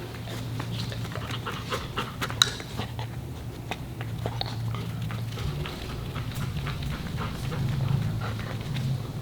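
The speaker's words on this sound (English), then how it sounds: "Send your dog. Fetch it." A dog pants steadily while retrieving an article during an obedience scent discrimination exercise, with faint footfalls and patter on the ground throughout.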